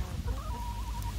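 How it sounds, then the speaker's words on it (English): Chickens cluck softly while pecking at pumpkin scraps and seeds, a short run of nearby clucks and low calls without anyone talking. "Chickens, they want some yummy corn."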